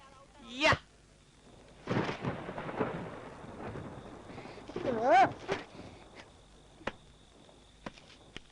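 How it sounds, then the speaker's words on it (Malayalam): A rainstorm with thunder plays in a film scene. Low booming rumbles roll in separate bursts over a faint rain backdrop, with a few sharp chirping calls between them. "മഴ പെയ്യുന്നാ തോന്നുന്നേ."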